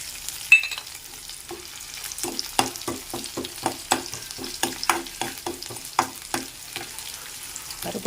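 Chana dal frying in a pan for a one-pot vatha kuzhambu rice is stirred with a spoon, giving a quiet sizzle under a steady series of sharp scraping clinks, roughly two per second.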